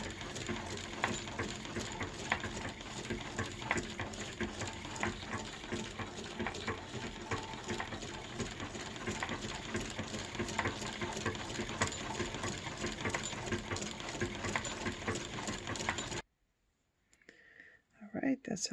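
A Naumann treadle sewing machine stitches with a fast, steady mechanical clatter for about sixteen seconds, then stops abruptly and leaves near silence.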